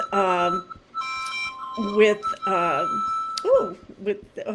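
A telephone rings repeatedly with steady electronic tones running beneath a voice during an evening broadcast, the ringing persisting in the background as he keeps talking.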